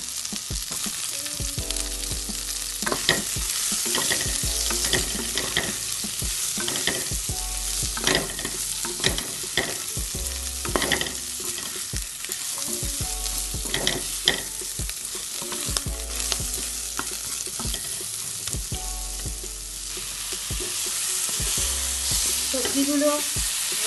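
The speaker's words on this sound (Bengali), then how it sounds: "সবজিগুলো একটু ভালো করে ভেজে কষানো হয়ে গেছে" Eggplant, potato and pointed gourd fry in a pan with a steady, dense sizzle and occasional stirring scrapes and clinks, close and continuous.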